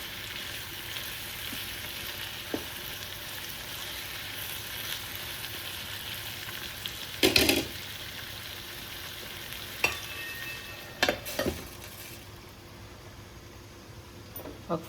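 Eggplant pieces and chana dal cook together in a pan as a curry, giving a steady soft sizzle throughout, broken by a few louder scrapes and clinks as the mixture is stirred.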